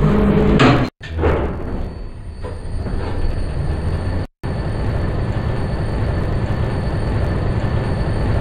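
A 0.6 m/s 1990s EcoDisc elevator gives a loud clunk as its doors shut. A steady rumbling hum follows while the car travels, broken by a brief silent gap and another thud partway through.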